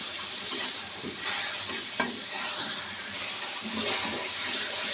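Small shrimp frying with salt, coriander and ground cumin in a pan, a steady loud sizzle with occasional stirring clinks and scrapes, close and continuous without speech.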